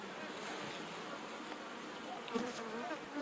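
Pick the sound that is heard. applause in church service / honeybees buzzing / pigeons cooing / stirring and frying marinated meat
honeybees buzzing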